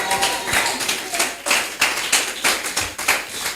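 A church congregation applauds for Jesus at a French-language service, with steady, dense clapping from many hands throughout.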